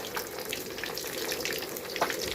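Fish frying in a pan, a continuous close crackling sizzle at an even moderate level, with no voices.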